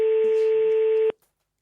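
A telephone rings on a call to the Rodez bishopric, one loud steady electronic tone held for about a second before cutting off abruptly into silence.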